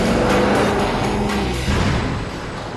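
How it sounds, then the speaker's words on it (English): A fifth-generation Chevrolet Camaro's engine roars loudly and steadily, a dense, rumbling drive sound that swells and eases slightly as the car moves. "combining raw power with that signature Camaro sound"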